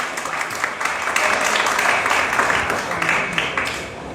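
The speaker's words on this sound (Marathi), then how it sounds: "सर्वांचे टाळ्या वाजून आपण स्वागत करूया." An audience at a school event claps continuously in welcome, a dense steady applause of many hands filling the room throughout, with no voices standing out.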